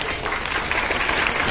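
An audience at a meeting with a director gives a brief, dense round of applause, with crowd noise close by.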